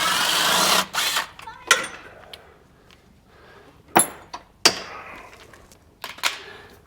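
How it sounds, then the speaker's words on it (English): Power tool backing a bolt out of the secondary clutch on a 2021 Axis 500, heard as a loud whir at first, then a series of short, sharp mechanical bursts separated by quieter gaps, close by. "I'm going to take this bolt back out from the secondary clutch."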